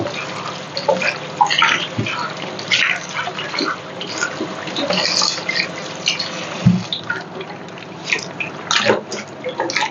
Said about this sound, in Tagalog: So, ayan, hugasan ko muna siya.